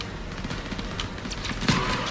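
Sustained battle gunfire in Call of Duty: World War II during the church escape level, a dense rattle of shots with a louder burst near the end.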